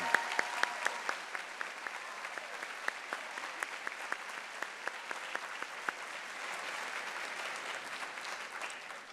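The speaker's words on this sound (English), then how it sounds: "How about a huge round of applause for both of them?" Audience at a university spring convocation ceremony applauds, a sustained, distant-sounding wash of many hands clapping with occasional crisper claps, steady throughout.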